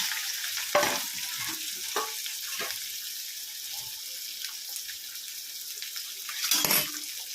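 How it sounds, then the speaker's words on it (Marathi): Chopped onion frying in oil with cumin seeds and garlic in a pan, an even, close sizzle broken by a few louder stirring scrapes and a watery burst near the end. "त्यानंतर आपण कांदा परतायला टाकून घेऊया।"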